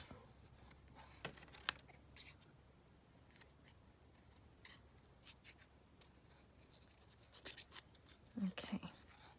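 Scissors cut out chipboard in quiet, close, irregular snips and crunches, with a few louder cuts scattered through and light handling noise between them.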